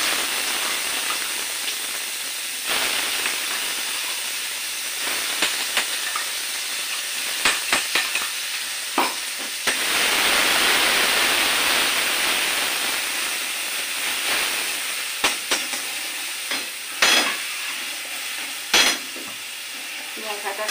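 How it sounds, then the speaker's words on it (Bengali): Small cardamom frying in oil for a tempering, a continuous sizzle and hiss broken by sharp scraping stirs of a spoon against the pan, with no voices. "ছোটো এলাচ ফোড়ন দেবো, দিয়ে একটু ভালো করে ভেজে ভেজে নেবো।"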